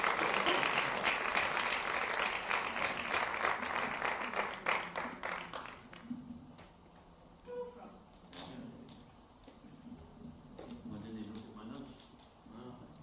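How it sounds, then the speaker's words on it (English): Audience applause at a theatre-in-education event, loud dense clapping for about six seconds that then fades into scattered claps, thumps and murmuring voices. "Please, a big applause."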